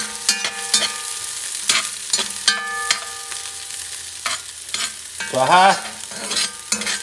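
Garlic frying in a pan on medium heat, stirred with a utensil that knocks and scrapes against the pan in scattered strokes over a soft sizzle, with someone speaking briefly near the end.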